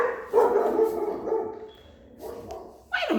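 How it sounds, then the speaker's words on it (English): A dog barks in a backyard, a few sharp, close barks with short yips between them, moderately loud, with no talking over them. "got the damn nerve to be barking up here in the yard"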